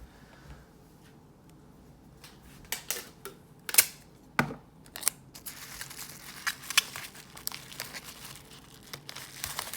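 Packing tape pulled and pressed onto a shipping package of trading cards, heard as a run of sharp crackling rips and crinkles, close and fairly loud, growing denser in the second half with no talking.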